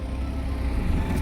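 A car stuck in beach sand runs its engine, a low, steady rumble sounding close for a moment with no talking.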